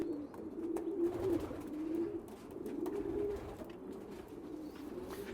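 A dark check splash breeding pigeon coos steadily, its low warbling calls repeating in a continuous rhythm, close and clear against a quiet loft background.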